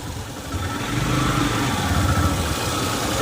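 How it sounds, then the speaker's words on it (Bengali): A motorcycle engine runs at a steady low rumble throughout, close by, with no sharp revving, like a bike cruising slowly. "ধীরে ধীরে বাইক চালাচ্ছি"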